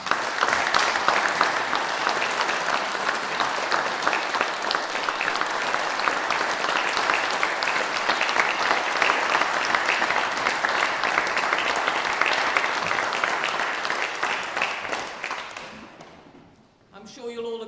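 Sustained, dense applause from the audience at a British Empire Medal investiture ceremony honouring medal recipients. It holds steady and loud for about sixteen seconds, then fades out.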